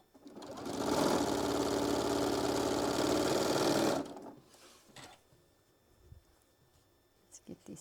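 A sewing machine stitching fabric pieces together runs in one loud, close, steady whirring burst of about three seconds, then stops, leaving quiet handling noises afterward.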